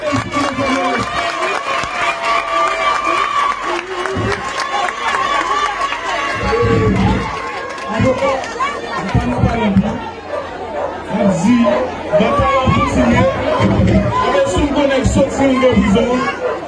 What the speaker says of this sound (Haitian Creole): Maintenant, nous avons un gros bravo pour saluer le retour